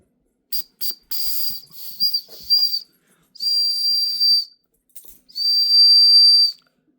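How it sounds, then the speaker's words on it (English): A small whistle from a subscription survival-gear box, blown as a dog whistle: several short shrill toots, then two sustained piercing high blasts, loud and close, with no talk. "Definitely works as a dog whistle."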